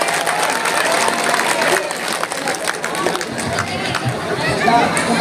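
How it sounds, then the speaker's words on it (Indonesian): Scattered audience clapping mixed with crowd chatter rises and dips at a religious talk on mosque construction, with individual claps audible among the murmur of voices. "Tepuk tangan dulu nggak apa-apa."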